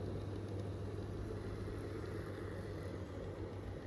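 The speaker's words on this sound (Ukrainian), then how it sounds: "Зараз побачите реальний звук вентиляційної системи." A DOMEKT home ventilation system with heat recovery, motors running: a steady, continuous mechanical hum with a low drone and broadband airy noise, unchanging throughout at a moderate, distant level.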